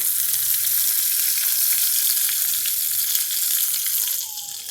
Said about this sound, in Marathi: फोडणी दोन तीन कढीपत्त्याची पानं टाकली आणि आता ही माझी फोडणी तयार झाली यात मी थोड्या मिरच्या टाकल्या बारीक